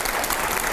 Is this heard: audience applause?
yes